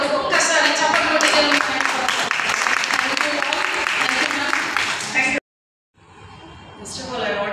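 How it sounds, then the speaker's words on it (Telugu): An audience at an International Women's Day gathering claps in a dense, sustained burst for about five seconds, then it cuts off abruptly before quieter sound resumes. "ఒక్కసారి చప్పట్లు కొట్టి"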